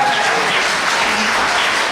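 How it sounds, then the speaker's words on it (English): A comedy podcast audience breaks into a steady, dense round of applause, loud and continuous for a couple of seconds with no voices over it. "Round of applause for this guy."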